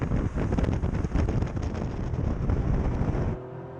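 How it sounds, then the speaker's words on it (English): A Toyota GR Yaris drives along a narrow, twisty road, with engine and tyre noise buried under loud rushing wind buffeting the microphone. Near the end the noise drops away sharply to a quieter hum. "So I'm driving here on this little twisty road"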